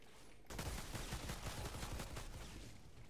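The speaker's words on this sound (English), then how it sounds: "Them rapid pistols" Rapid pistol fire in Outriders, a quick unbroken string of close, loud shots that starts suddenly after a short pause and keeps going steadily to the end.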